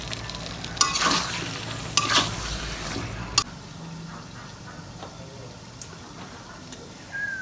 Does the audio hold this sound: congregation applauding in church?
no